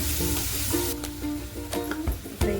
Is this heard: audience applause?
no